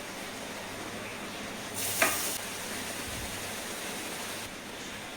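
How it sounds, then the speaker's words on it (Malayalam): Grated carrot frying in ghee hisses softly and evenly, with one brief louder burst of sizzle and a clink partway through. "ഇനി നമ്മൾ ആ നെയ്യിലോട്ട് തന്നെ ഗ്രേറ്റ് ചെയ്ത് വെച്ചിരിക്കുന്ന ക്യാരറ്റ് ഇടുക."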